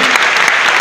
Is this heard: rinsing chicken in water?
no